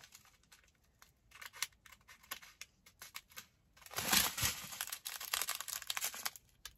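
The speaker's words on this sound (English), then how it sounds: "So I'm going to cut in between." Scissors snip open a small plastic bag of diamond painting drills, giving a close, crisp burst of cutting and crinkling plastic after a few quieter rustles.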